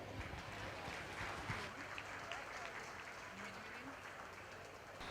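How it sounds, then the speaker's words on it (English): A crowd applauds steadily throughout at a market steer show, a dense wash of many hands clapping at moderate volume without pause. "Let's give them all a nice round of applause."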